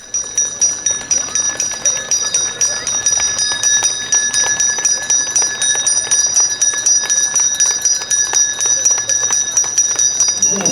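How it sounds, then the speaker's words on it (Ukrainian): A school bell rings on Knowledge Day, the first day of the school year, a loud, steady electric ringing that goes on without a break for the whole span, with a faint hum of voices underneath. "у всіх навчальних закладах лунав головний символ Дня Знань перший вересневий дзвоник"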